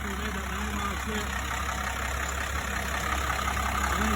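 A turbocharged Cummins diesel engine in a heavy-haul tow truck idles with a steady low rumble and a faint high whine, while someone talks close by.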